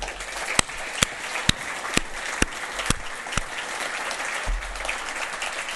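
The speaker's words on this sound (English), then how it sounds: "round of applause for everybody in the house" An audience in a closing session of a regenerative practices event gives a steady round of applause for everyone in the house, with a few sharp louder claps standing out near the front.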